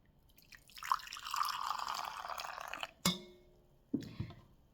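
Homemade boiled black coffee pours into a cup, a close liquid stream lasting a couple of seconds, followed by a sharp clink and a brief second splash.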